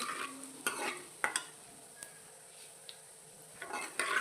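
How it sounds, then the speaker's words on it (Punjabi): Crushed coriander and cumin seeds frying in hot oil in a pan for Punjabi kadhi, with quiet sizzling broken by sharp scrapes and clinks of a stirring spoon against the pot. "ਹੁਣ ਇਸ ਵਿੱਚ ਅਸੀਂ ਪਾਵਾਂਗੇ ਕ੍ਰਸ਼ ਕੀਤਾ ਹੋਇਆ ਧਨੀਆ ਸੁੱਕਾ ਧਨੀਆ ਤੇ ਨਾਲ ਹੀ ਜੀਰਾ ਇੱਕ ਮਿੰਟ ਇਹਨੂੰ ਫਰਾਈ ਕਰ ਲਓ"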